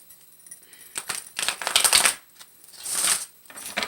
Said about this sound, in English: I'm going to give it another shuffle just because I like to do that